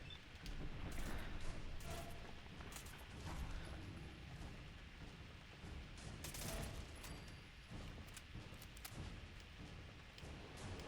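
Rapid bursts of gunfire from the game Fallout 4, sharp repeated shots scattered through a dense, fairly quiet combat mix with no clear talk.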